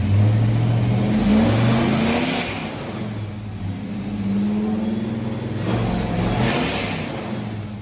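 A car engine revs up close, rising and falling in several throaty surges over a rumbling idle, loud with no voices.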